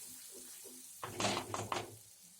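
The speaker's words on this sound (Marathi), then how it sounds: "आपण हळद आणि मसाला या फोडणीमध्ये परतून घेतला." Turmeric and masala hit hot oil for a tempering in a Malvani-style fish curry and produce a sudden crackling sizzle with a few spoon clinks, close and fairly faint after a quiet start.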